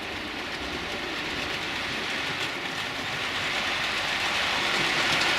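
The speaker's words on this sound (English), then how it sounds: "we'll just run a few trains now and then call it a do" Continuous clattering rumble of a small model train running along the track, steady and gently building in loudness, with no voices.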